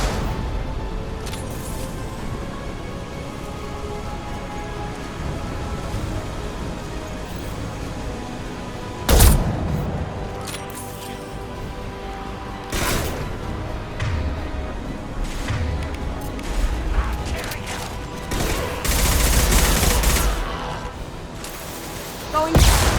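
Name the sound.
impact shot gunfire in Mass Effect video game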